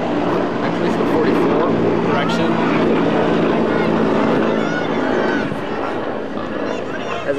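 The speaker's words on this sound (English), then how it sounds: "the helicopter goes over." Helicopter flying overhead at an outdoor girls' ultimate frisbee game, a loud steady rotor and engine drone filling the scene, with a commentator's voice running over it.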